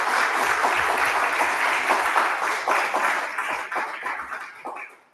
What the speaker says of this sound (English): I just want you to give a rousing round of applause to our lovely working group members